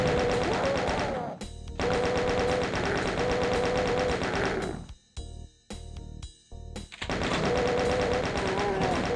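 Sustained rapid mechanical gunfire from chaingunner enemies in the video game Doom 2, loud dense bursts filling most of the stretch with a brief broken gap in the middle, mixed with game effects.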